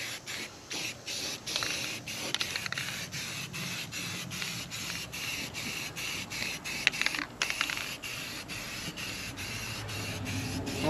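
Black paint sprayed from a can onto John Deere 643 corn head parts in a toolbox setting, a steady close hiss in repeated short bursts with brief pauses between passes.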